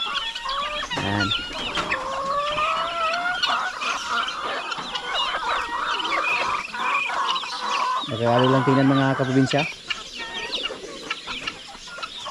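Backyard flock of chickens and ducks, with clucking, squawks and a burst of loud honking quacks around the middle, close by, while a person talks briefly over the birds.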